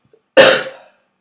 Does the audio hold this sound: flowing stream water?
no